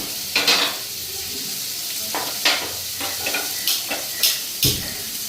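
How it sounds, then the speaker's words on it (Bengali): Potatoes fry in a pan on a home stove with a steady sizzle, while a utensil stirs them and knocks against the pan in sharp, irregular scrapes and clinks. "আলু ভাজাটা বসাই দিলাম।"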